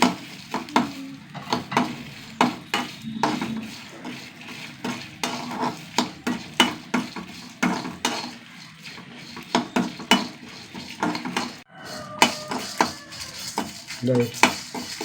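Fenugreek seeds and cumin roasting in a pan as a spatula scrapes and stirs in repeated rhythmic strokes, with a light sizzle underneath, close and fairly loud.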